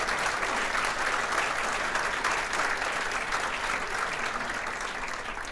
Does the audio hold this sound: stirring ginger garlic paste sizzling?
no